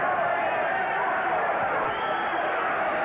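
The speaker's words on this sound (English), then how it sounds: "And the crowd responding to the finish" The crowd at the 1986 Julio Cesar Chavez vs Rocky Lockridge boxing fight sends up a steady, roaring swell near the end of the bout, heard as broadcast noise under a commentator's talk.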